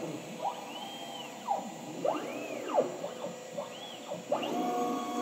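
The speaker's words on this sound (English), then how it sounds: "hear the spindle running. Super quiet Colombo electro spindle, 2 horsepower." A two-horsepower Colombo electro spindle on a MultiCam M Series CNC router whines steadily under a constant hum, and its pitch sweeps up and down in repeated arcs as the head moves through circular cuts.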